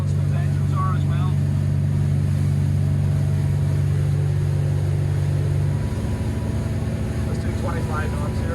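Twin Volvo Penta D6 400HP diesel engines on a Cranchi M44 HT motor yacht run at about 3,000 RPM, a steady loud drone with wind and water rush, holding a low hum before its pitch shifts near the end.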